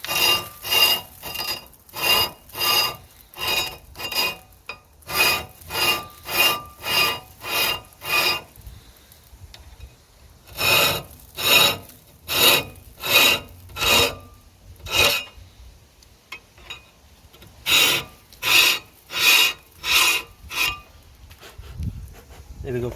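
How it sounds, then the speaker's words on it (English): Repeated rasping strokes as the edges of a Suzuki Wagon R front brake disc are scraped clean, about two dozen close, loud, evenly paced scrapes in three bursts separated by short pauses, with no talking. "Right, so we'll also clean the disc, the edges."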